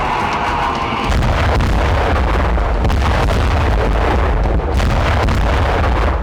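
Heavy artillery fire and explosions from the Gaza war, a dense, loud, continuous roar of blasts and rumbling booms that swells sharply after a quieter start and keeps going without a break, no voices.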